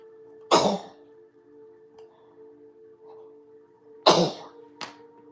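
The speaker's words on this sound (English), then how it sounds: "And I'm going to sneeze." A person sneezes twice, loud and close, the first burst early and the second about three and a half seconds later followed by a short sniff, with a steady low hum underneath in a quiet room.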